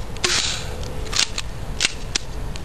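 An M1911 Colt gas blowback airsoft pistol fires several sharp, close cracks with the clack of the slide, spaced irregularly over a low background rumble.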